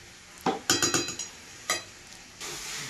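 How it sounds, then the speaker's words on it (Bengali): Meat frying in a pan while being stirred, with a soft sizzle under a quick run of utensil scrapes and clinks, then a pause, another scrape and a rising hiss. "এইভাবে আমি কিছুক্ষণ মাংসটা ভাজবো, এইভাবে।"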